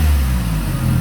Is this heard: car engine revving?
yes